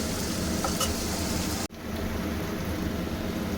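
Onions frying in a pan for a Bengali prawn and kochur loti dish, a loud steady sizzle that cuts off sharply partway, then resumes slightly quieter.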